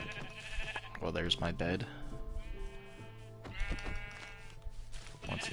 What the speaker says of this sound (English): More sheep, okay.